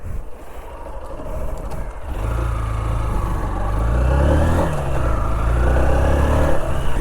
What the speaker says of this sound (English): such a smooth and sweet engine